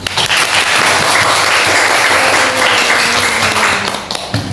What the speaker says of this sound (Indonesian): kalau masih semangat coba dong kasih tepuk tangannya yang meriah kali ini